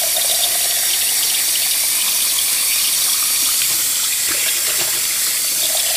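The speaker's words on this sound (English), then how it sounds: "swirl it around and let that water heat up the coffee mug" Piping-hot tap water runs steadily into a coffee mug to warm it, a continuous close gushing and splashing that fills the whole stretch with no talking.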